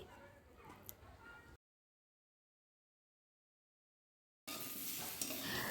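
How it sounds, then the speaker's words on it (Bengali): Young jackfruit and potato pieces frying together in a pan with a little salt and turmeric, a steady close hiss and crackle that cuts out to silence for a few seconds, then returns louder. "তো এঁচড় আলু একসঙ্গেই ভেজে নিচ্ছি, একটু সামান্য নুন হলুদ দিয়ে ভেজে নেব।"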